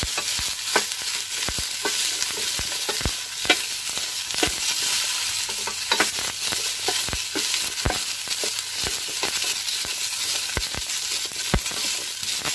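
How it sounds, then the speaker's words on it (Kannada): Okra fries in oil in a pan with a continuous bright sizzle, punctuated by sharp scraping clicks from stirring at an uneven rhythm, close and alone with no talk. "ಬೆಂಡೆಕಾಯಿ ಎಣ್ಣೆ ಹಾಕಿ ಉರಿತಾ ಇದ್ದೀನಿ"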